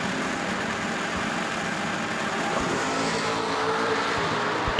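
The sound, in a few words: drag racing cars at starting line, Superstock 94 Camaro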